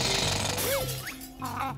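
A bill drill attack in the video game Banjo-Tooie drills into a patch of ice, giving a loud, rapid hammering rattle across the whole short clip, with sliding whistle-like game effects over it.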